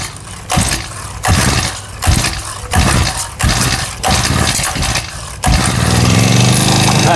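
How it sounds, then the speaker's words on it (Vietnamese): Several pull-start attempts sputter a small engine in rhythmic bursts, then it catches and runs loudly and steadily, close by. "Nổ rồi anh em ơi, mừng quá."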